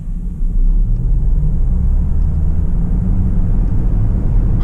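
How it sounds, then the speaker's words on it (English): A 2027 Mercedes GLC AMG accelerates hard from 0 to 100 km/h, a loud, deep, steady engine and road rumble heard from inside the cabin with no talk. "We will go ahead and measure the acceleration from 0 to 100 kilometers per hour and 0 to 60 miles per hour"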